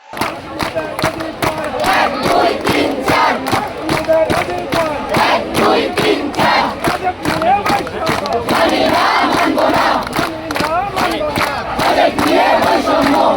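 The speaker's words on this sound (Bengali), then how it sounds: "এখানে সবাই হচ্ছে একটা স্লোগান দিচ্ছিল, মাহফুজ না ঠান্ডা ঠান্ডা ঠান্ডা।" A large protest crowd chants slogans in unison, loud, close and rhythmic, with massed voices rising and falling throughout.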